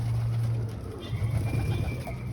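Domestic pigeons coo steadily at close range, a low, throaty rolling coo that continues throughout with slight pulses and faint background rustle.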